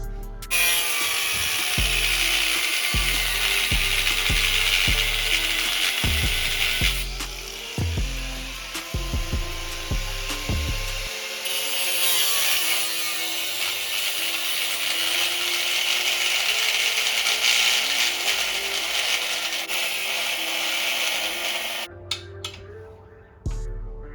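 Power tool cutting off a free-spinning nut on a Volkswagen Beetle strut during a coilover install, a loud continuous high grinding whine with stuttering low chatter early on, steady for about twenty seconds before cutting out.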